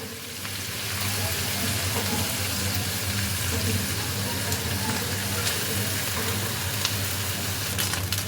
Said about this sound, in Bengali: এবার আমি এর মধ্যে ভাতটা অ্যাড করছি